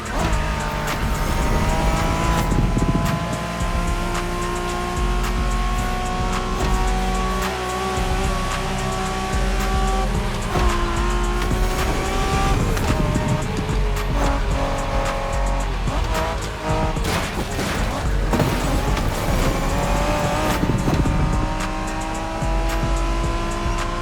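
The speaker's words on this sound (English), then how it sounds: "Are you familiar with the Honda you're driving? The NSX isn't your regular street car." A 1990s Honda NSX sports car in the racing video game The Crew Motorfest, its engine revving loudly and continuously with repeated bursts of tire squeal and skidding, with no one talking.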